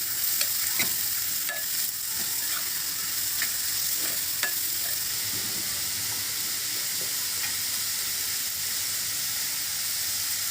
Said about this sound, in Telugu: ఆనియన్ కలుపుకుందాం